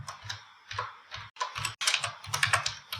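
Rapid clacking keystrokes on a computer keyboard in uneven bursts with brief gaps, close and fairly loud, no voices.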